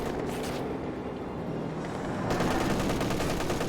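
Guns fire continuously in a strategy video game, a dense rattling barrage that swells louder partway through, with no talk over it.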